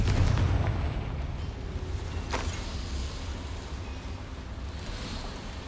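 A Confringo fire spell detonates in Hogwarts Legacy, a single sharp blast around the middle over a constant low rumbling game backdrop, loud and close, with no voices.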